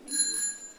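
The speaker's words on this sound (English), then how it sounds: "Oh, we got the bells." A bicycle bell rings once with a bright sustained metallic tone that fades quickly, heard at a city council meeting.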